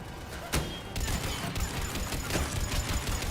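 Assault rifle fire in Mass Effect 3: a sharp burst early on, then dense, sustained rapid shots that stay loud and close to the end.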